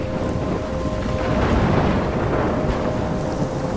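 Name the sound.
thunderstorm in video game Life is Strange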